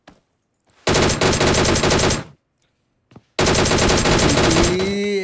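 Rapid automatic gunfire from a battle royale video game match, two loud sustained bursts separated by a brief pause and a couple of single shots, with a faint voice at the end.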